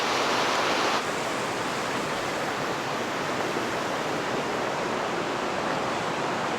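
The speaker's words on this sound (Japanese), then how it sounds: "これは水車って言って 空気をかませて水を で水の中に酸素" A paddle water wheel churns and aerates water in a fish pond at a seaside restaurant, making a loud, constant rushing roar like a small waterfall, heard alone with no talking.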